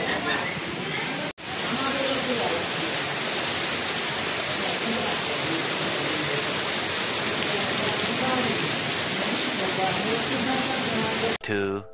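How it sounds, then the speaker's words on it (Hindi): Steady, heavy rain pours down in a continuous hiss, broken by a brief cut near the start and again at the very end. "वो देखिए उधर बारिश गिरते हुए भाई"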